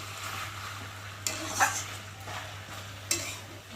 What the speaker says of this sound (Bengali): মাংস কষানো হয়ে গেছে, দেখতে পাচ্ছ ভালোভাবে কষানো হয়ে গেছে।